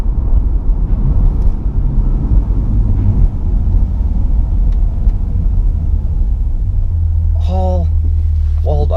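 A 2020 Chevrolet C8 Corvette, mid-engine, lets out a loud, steady low engine roar that builds into a launch-control acceleration, with a brief sharper burst near the end.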